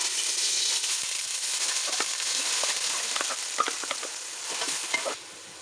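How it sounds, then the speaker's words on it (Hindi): Finely chopped onions fry in cooking oil in a pot for a fish curry, a steady close sizzle with scattered crackles and light stirring, fading slightly near the end. "अब हम इसमें कुकिंग ऑयल में ऐड करेंगे।"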